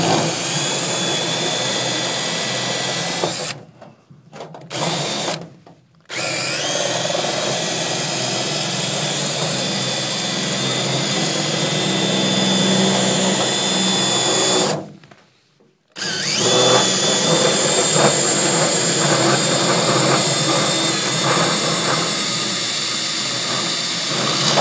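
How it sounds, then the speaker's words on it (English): A power drill with a Malco hole cutter grinds steadily through material during a heat pump install, loud and close, pausing twice briefly before resuming. "cutting a couple holes, and I'm using a Malco hole cutter"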